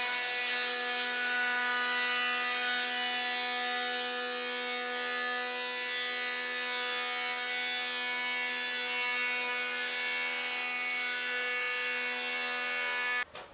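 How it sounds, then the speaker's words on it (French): A wood planer works boards that have been resawn, a loud steady high-pitched whine with a dense buzzing drone that holds for over ten seconds before cutting off abruptly at the end. "il faut les planer de l'autre bord"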